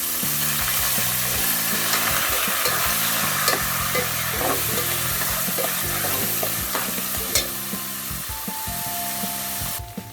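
Washed rice being roasted in a pan for khichdi, a continuous soft sizzle with scraping and stirring strokes from a spoon against the pan, close and steady, with a faint low hum in the background.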